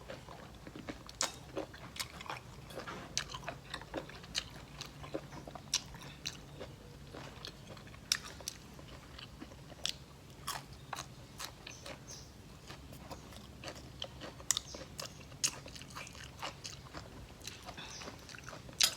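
Crunchy golden apple snails are chewed close up, giving faint, irregular crunches and crackly bites over a quiet background, with no one speaking.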